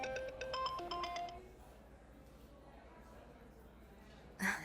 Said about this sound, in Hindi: कॉल आ गई।